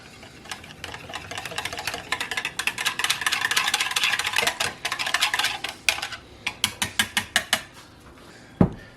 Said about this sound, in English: I just take a whisk and give this a little mix just to incorporate everything together